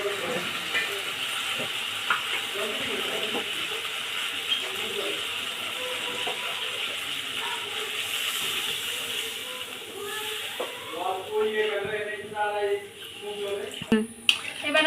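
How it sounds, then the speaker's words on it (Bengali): Water goes into a hot pan of simmering doi katla, a Bengali yogurt fish curry, raising a steady, loud steamy hiss that grows rougher and bubblier toward the end. "এবার আমি দিয়ে দেবো পরিমাণ মতো জল"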